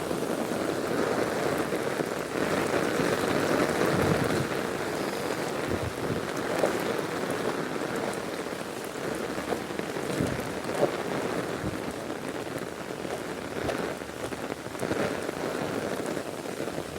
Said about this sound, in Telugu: మన సదర్ షాపూర్ విలేజ్లో ఈరోజు భారీ వర్షం కురుస్తున్నది.